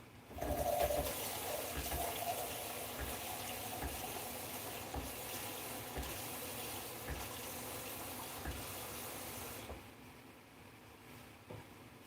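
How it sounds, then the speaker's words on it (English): Ordinary tap water pours steadily into a container and swirls as it is stirred, a continuous close splashing and gurgling that runs for most of the stretch before easing off near the end. "we'll just use good old regular agua, water"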